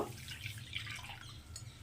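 Water poured into a wok, a brief faint trickle and splash lasting under two seconds with no talk.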